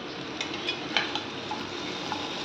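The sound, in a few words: pumpkin frying in pan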